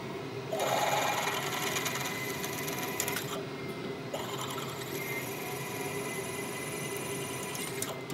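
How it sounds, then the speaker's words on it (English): A drill bores holes in metal file-guide vise jaws, to be tapped for M8 bolts, giving a steady, close machine whir with a brief dip partway through before the drilling resumes at an even level. "what I have to do is drill and tap some holes for these M8 bolts"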